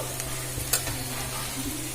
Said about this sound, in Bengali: আমার পেঁয়াজটা ভাজা হয়ে এসেছে